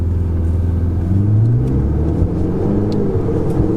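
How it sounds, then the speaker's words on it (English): Ferrari 488 engine heard from inside the cabin during a downshift, a steady loud low rumble with a brief rise in revs, no talking over it. "Oh, there's a downshift."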